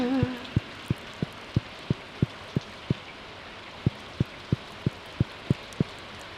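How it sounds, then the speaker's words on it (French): Soft, steady rain in the farming game Stardew Valley hisses beneath a regular series of sharp, evenly spaced plucked or tapping tones that repeat about every third of a second. "Il pleut."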